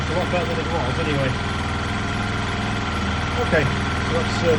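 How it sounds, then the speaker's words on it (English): A Honda Lead SCV100 scooter engine idles low and steady after an idle speed adjustment, a constant close putter with no talking. "we've got the idling down. That sounds a lot better."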